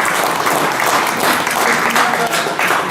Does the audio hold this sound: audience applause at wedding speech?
yes